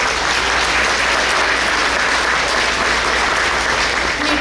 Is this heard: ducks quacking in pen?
no